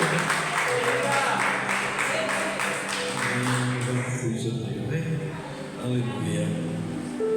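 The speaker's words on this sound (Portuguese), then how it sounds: "E as palmas louvam e agradecem ao Senhor." A church congregation claps in praise, a dense rhythmic patter of many hands carrying on for several seconds, with voices and sustained musical tones underneath.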